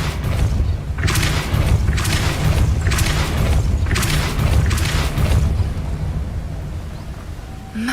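Spell blasts in a Wizarding World video game: about five heavy booming bursts go off in quick succession, loud and close over a rumbling ambient bed that settles afterward.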